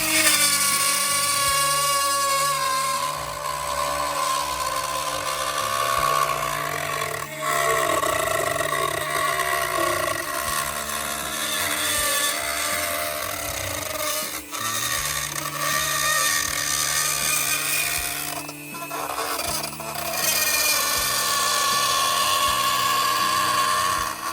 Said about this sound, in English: a little Dremel, fancy bit like this, gets the money done